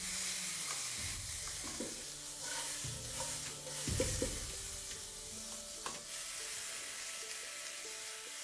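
Vegetables stir-fry on high flame in a pan for a home-style chicken recipe, giving a steady close sizzle with repeated scraping stirs of a spatula and no talking.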